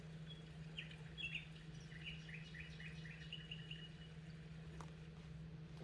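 Faint birds chirp in short, repeated twittering bursts over a steady low electrical hum, fading after a few seconds.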